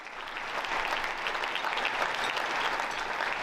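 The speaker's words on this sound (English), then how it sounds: "Of course, you deserve a hand clap." An audience at a fundraising luncheon applauds with a dense, steady wash of clapping that swells slightly and holds evenly for a few seconds, with no voices above it.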